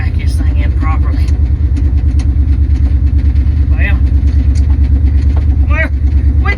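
Loud, close rumble of a 1970 Dodge D200 truck engine running steadily while the truck backs in, with a throbbing low idle throughout and people talking over it.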